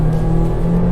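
A Honda Civic with a CVT gearbox accelerates at full throttle, its engine giving a loud, steady, close droning roar with no talk over it.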